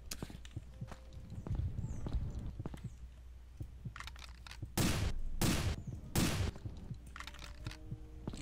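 Gunfire in the horror video game Affliction: three loud, broadband shots spaced about 0.7 seconds apart, preceded by softer clattering footstep-like game sounds and low background noise.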